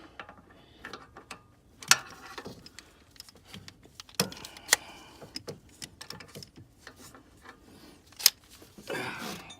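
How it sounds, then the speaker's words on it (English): A ratchet tightens a power steering hose fitting during a failed pump change, sounding as scattered clicks and metallic ticks under low shop noise, with a few sharper clanks. "I'll tighten it back down with a ratchety."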